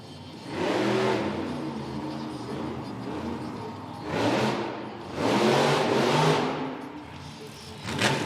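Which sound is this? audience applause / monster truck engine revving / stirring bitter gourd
monster truck engine revving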